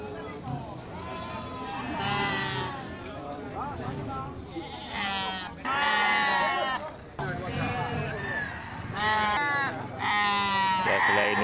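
Sheep and young lambs bleat repeatedly at a busy livestock market, loud, overlapping calls close by, with people talking throughout the crowded pen area.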